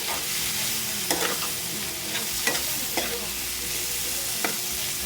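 Anchovies fry in a pan with tomato and soy sauce, a steady close sizzle broken by several scraping stirs of a utensil against the pan.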